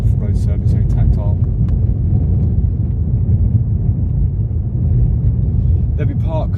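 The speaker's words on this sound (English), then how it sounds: "which, as you might be able to hear, has got a very rough road surface" Car tyres roll over a very rough road surface on the Leas to Sandgate route in Folkestone, making a loud, steady low rumble that fills the cabin. A voice is briefly heard at the start and end.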